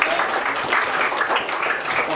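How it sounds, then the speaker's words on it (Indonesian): Classroom applause for a pupil named Raja during a primary school lesson on artificial intelligence, a short, dense burst of clapping from a group that holds steady for about two seconds. "tepuk tangan buat Raja"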